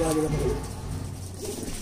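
A pet pigeon, a male gifted from Lucknow, coos in a low rolling murmur, close and steady under a person talking nearby.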